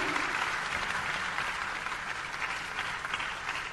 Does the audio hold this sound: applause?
yes